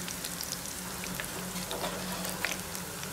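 Chicken onion vada fries in hot oil with a steady, dense crackle and sizzle, close and moderately quiet, with no voices.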